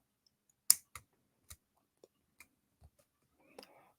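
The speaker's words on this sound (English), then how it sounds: "Okay, just cut 3 lengths off of that." Jewelry cutters snip lengths off a stud chain for earrings: about seven sharp, close metallic clicks spaced unevenly over a few seconds, with faint handling noise at the end.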